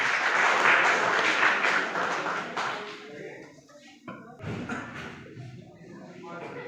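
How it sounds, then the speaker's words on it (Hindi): Audience clapping loudly at a cow-protection awareness event at Jiwaji University in Gwalior, strong at first then thinning into scattered claps, shuffles and thuds as it fades. "तो एक बार जोरदार तालियां हो जाए"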